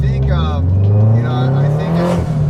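Naturally aspirated Subaru BRZ boxer engine with unequal-length headers giving a low burbling rumble that rises in pitch as it revs, steady and close throughout with voices talking over it.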